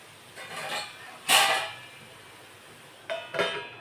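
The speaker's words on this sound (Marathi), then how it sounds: "आता हे आपण झाकून ठेवणार आहोत" A lid goes onto a pan of amla and jaggery, a brief metallic clink and scrape followed a couple of seconds later by two lighter rattles, quiet and close.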